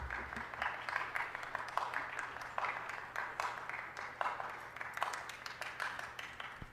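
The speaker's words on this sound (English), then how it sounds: "These fucking guys are all clapping extra right now." People at a Los Angeles city council meeting clap in a faint, distant patter of scattered handclaps, steady and thin under a low room hum, with no talking.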